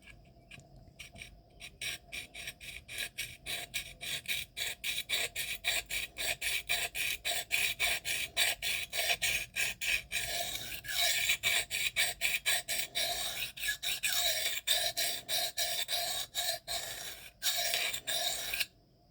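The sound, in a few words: sharpening a knife blade to raise a burr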